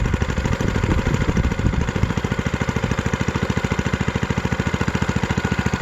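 A small engine powering a homemade wooden RC car/tractor chugs steadily, with a fast, even, regular pulse that stays loud and close throughout.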